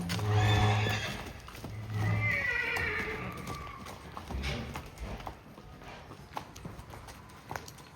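A Marwari horse, under a rider in training, gives a loud drawn-out neigh and then a second whinny while hooves clip-clop steadily on the ground close by.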